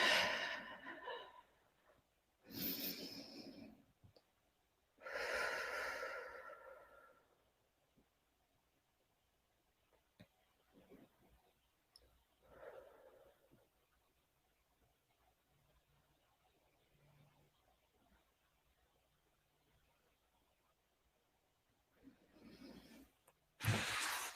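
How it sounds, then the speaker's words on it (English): Slow, deep breaths taken during contemplative worship: a few long, breathy inhales and exhales close by, separated by long quiet stretches, with one more breath at the end. "I think I'll just take a few breaths"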